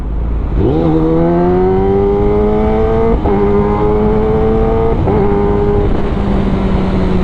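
Kawasaki ZX-10R sport bike accelerating from a launch, its engine note climbing through several gears with brief dips at each shift, loud and close, a smooth high-revving whine with no talk over it.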